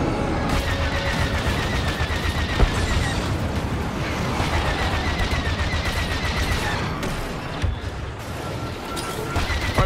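Dense, continuous starfighter cannon fire and explosions from a bomber attack run in Star Wars Battlefront 2 pound loudly throughout, a thick barrage of rapid shots and booms.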